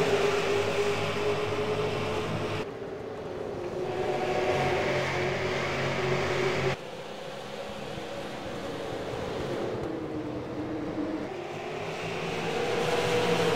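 Race car engines in a racing sim video game howl together at a restart, a loud continuous roar that rises and falls as the field accelerates, with abrupt shifts in tone and no talking.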